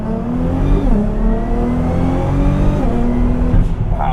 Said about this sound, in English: That is a VR38 distinctive in the way it sounds and pulls and shifts gears.